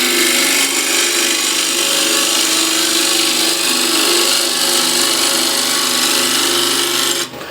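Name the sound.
continental spindle gouge shaping outside of wooden bowl on lathe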